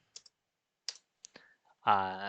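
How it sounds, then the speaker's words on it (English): Mouse buttons clicked on a computer while working in Blender 2.9 3D software: a few sparse, sharp clicks spaced out over two seconds, ending in a brief louder tonal burst. "you can see what buttons I am clicking"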